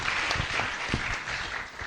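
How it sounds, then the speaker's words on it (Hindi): A brief burst of audience applause at a journalism student orientation event in an auditorium, soft, somewhat distant clapping from a crowd, even throughout and free of speech. "जोरदार तालियां बजाइए एक बार"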